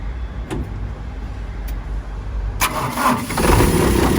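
A small 12-volt generator engine is started with a Spark JS21 jump starter. A couple of faint clicks come first, then the engine cranks and catches, running louder and rougher up close.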